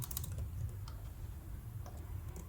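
Fingers typing on a computer keyboard while writing SAP ABAP code, the light, scattered key clicks sitting faintly under a steady low electrical hum across the whole stretch.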